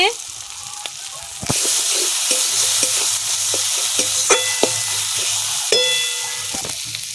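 Spices and fish-head moong dal sauté in a pan with bay leaf, green chilli, turmeric, cumin and coriander, a loud steady sizzle with scattered clanks of a stirring spoon and one sharp surge of frying.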